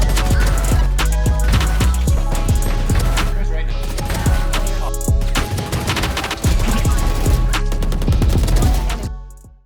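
Rapid bursts of automatic spray gunfire in the tactical shooter game Valorant, loud and continuous across several long strings of shots with brief gaps, ending as the firing stops.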